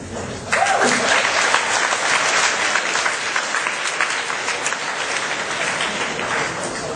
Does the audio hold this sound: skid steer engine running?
no